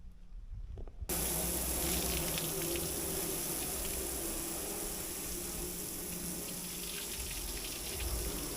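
A steady, continuous hiss of water rinses a trailer. It starts abruptly after a brief quiet moment and then holds a constant, even level throughout with no talking.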